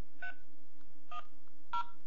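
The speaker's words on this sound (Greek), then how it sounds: "Μπορώ να καλέσω οποιονδήποτε αριθμό." Three short bursts of telephone dialing tones from a USB phone sound in steady succession, quiet and clean over a faint hum.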